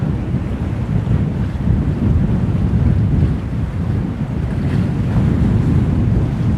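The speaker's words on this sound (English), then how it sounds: "That's the safest place at the moment because of all the wind." Strong, steady wind roars and buffets the microphone at the sea while fishing during a storm at Busselton, Western Australia, a dense, continuous low rumble with surf beneath it.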